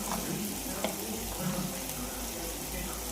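Onions and tomato with red chilli and spices fry in a pan for Rajasthani dal, giving a steady, soft sizzle with occasional stirring clicks throughout and no talking.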